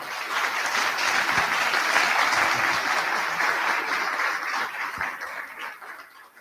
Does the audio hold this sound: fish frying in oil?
no